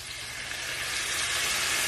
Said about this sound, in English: You can hear that sizzle of that sauce